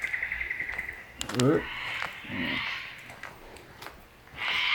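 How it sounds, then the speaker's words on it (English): A cockatoo calls in the background of rainforest near a waterfall in a national park, several harsh screeching calls at moderate distance while someone speaks nearby and a faint high bird trill sounds at the start. "cockatoo here in the background"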